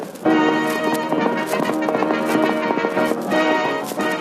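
Rhythmic clip-clop of horse hooves runs steadily over lively music in a 1948 radio comedy broadcast, a brisk trotting beat that carries through to the end.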